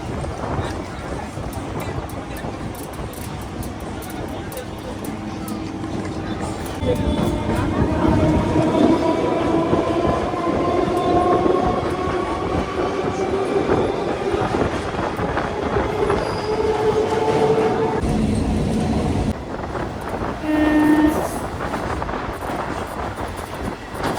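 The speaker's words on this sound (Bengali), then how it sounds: "এবার আপনারা কিছুক্ষণ ট্রেনে চলার দৃশ্য উপভোগ করুন" A local train bound for Ranaghat runs steadily, with continuous rumbling, clattering wheels on the rails and occasional high squeals, heard from inside the carriage with faint voices in the background.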